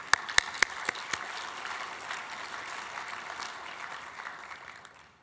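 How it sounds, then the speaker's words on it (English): A crowd applauds steadily for several seconds, the clapping fading slightly toward the end, with a few sharp clicks at the start. "that requires a round of applause for Becky."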